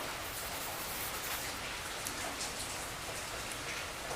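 Heavy rain pours down in a dense, unbroken hiss of countless drops striking surfaces, steady and enveloping throughout with no voices.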